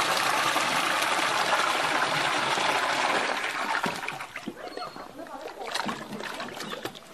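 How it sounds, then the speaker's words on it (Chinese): Water pumped from a family well gushes and splashes steadily, loud and close at first, then thinning to softer trickles and splatters while someone talks. "这个是家里面的井水抽出来的水啊"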